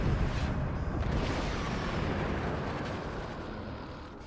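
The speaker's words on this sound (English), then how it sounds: "These nukes are not getting through." Rumbling, booming blasts from a nuke launch being shot down by heavy anti-air fire in a video game, a dense continuous roar that stays loud and slowly fades over a few seconds, with no talk.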